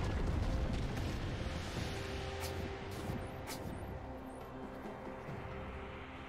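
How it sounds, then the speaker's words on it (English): A turret being destroyed in a League of Legends match sends out a loud, sustained rumbling blast that rolls on for several seconds. Game effects and music sit layered over it. "Red team's turret has been destroyed."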